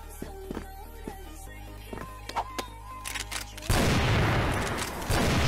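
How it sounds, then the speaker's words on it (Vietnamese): Team gunfire in the video game CrossFire: scattered clicks and light shots at first, then a sudden loud burst of sustained automatic fire that dominates the final seconds. "Tem mình bắn quá là gắt luôn."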